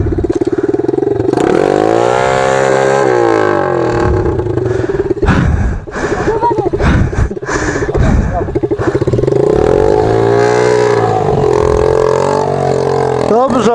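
A motorcycle engine revs hard as the throttle is opened, its pitch rising and falling in several long loud sweeps, with a brief clattering dip in the middle.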